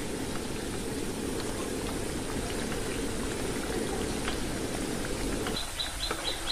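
Wheat flour and potato mathri deep frying in oil over a low flame, a dense, even bubbling sizzle that runs throughout, with a few faint high chirps toward the end.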